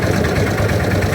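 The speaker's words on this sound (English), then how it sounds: "We start the compressor." A compressor engine idles at a concrete pouring site, a steady, loud, rumbling drone with a fast mechanical knock running through it.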